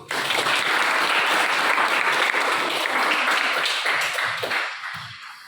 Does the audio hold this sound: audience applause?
yes